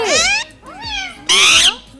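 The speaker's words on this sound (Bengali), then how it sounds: "ম্যাও করে" A cat meows several times in quick succession, close and fairly loud, with drawn-out rising and falling calls and a brighter, sharper cry near the end.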